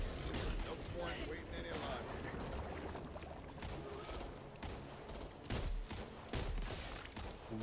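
Rapid automatic gunfire from a gun in the video game Back 4 Blood crackles in dense repeated bursts, mixed under constant game noise and players talking.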